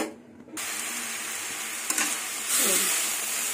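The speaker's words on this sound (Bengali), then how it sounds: "তারপরে একটু ভেজে নেব।" Kharkol (ghetkol) leaf greens fry in a pan with steady close sizzling and stirring noise, briefly quieter at the start and louder near the end, with no voices.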